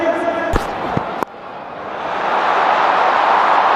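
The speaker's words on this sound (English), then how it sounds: "A lot of noise today in this crowd." A packed cricket stadium at an IPL match between Royal Challengers and Punjab Kings swells into a loud, sustained crowd roar after a couple of sharp knocks, the noise building steadily and staying broad and dense.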